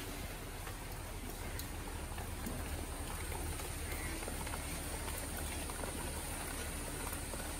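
Steady rain falls outside during a rainy spell, a dense, even hiss that stays at the same level from start to end with no voices above it.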